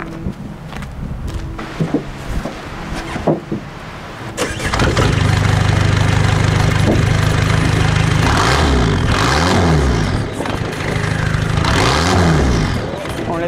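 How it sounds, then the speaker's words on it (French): A diesel car engine cranks and starts after a few seconds of quiet movement and brief talk, then settles into a loud, close, steady clattering idle while warming up, with a couple of light revs. "ça fait le petit bruit de tracteur hein, comme on pouvait le prévoir, de toute façon c'est un mazout"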